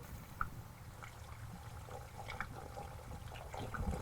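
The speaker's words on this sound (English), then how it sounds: "finish filling up the radiator" Coolant pours steadily into the radiator of a Dodge Cummins 5.9L diesel truck, a continuous soft trickling wash with a few brief clinks, fairly quiet and with no talking.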